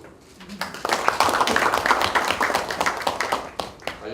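A room at a party meeting breaks into applause to welcome a new party spokesperson, with dense clapping that swells quickly, holds steady and then tapers, with a murmur of voices beneath it.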